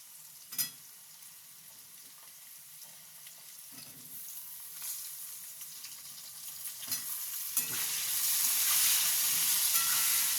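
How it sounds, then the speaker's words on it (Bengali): Eggplant frying in a pan for a fish curry, sizzling loud and steady that rises toward the end, broken by several sharp scrapes and knocks of stirring. "বেগুন দিয়ে একটু কষবো।"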